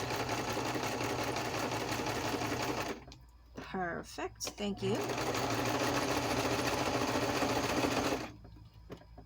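A sewing machine stitches a book page pocket in a rapid, steady mechanical whir that stops briefly while someone speaks, then resumes at full speed before halting near the end.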